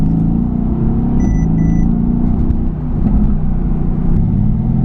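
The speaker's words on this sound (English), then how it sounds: "The bi-turbo V8 rumbling out of the back" A Mercedes-AMG GT S bi-turbo V8 in Sport Plus mode rumbles from the exhaust, a loud, close, continuous low drone that stays even across the whole stretch with no talk.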